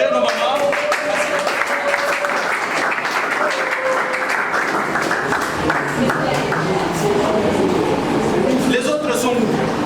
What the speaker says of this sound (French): Sous vos applaudissements, encouragez nos mamans